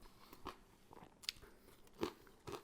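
Bites and chews into a crunchy homemade fried chicken sandwich crackle close up, about six crisp crunches spaced irregularly, quiet apart from the sharp bursts.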